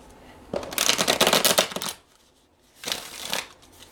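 Tarot cards being shuffled in two bursts, a long riffling run of crisp flapping slaps followed after a short pause by a second briefer shuffle, close and alone with no talk.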